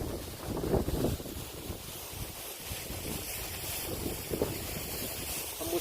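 Waterfall at Blemantung pours in a steady rushing wash mixed with gusty wind buffeting the microphone, close and continuous with no talk.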